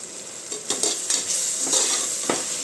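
Whole spices, cinnamon, bay leaf and cardamom, frying in a pan for chicken biryani, a soft steady sizzle broken by several light scraping stirs of a spoon against the metal; no voices.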